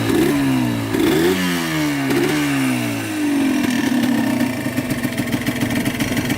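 A Yamaha Blaster ATV two-stroke engine revs hard several times, each rise falling back, then settles into a rapid, loud crackling idle close by.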